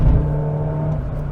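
A Ford Puma 1.7 drives along with a steady low engine drone and rumbling road noise from a firm, jiggly ride, heard from inside the cabin without talk.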